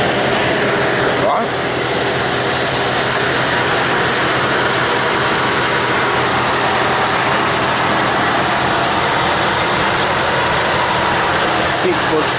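A Dodge V8 Hemi engine idles with a steady, loud, even rumble and broadband roar that holds without a break.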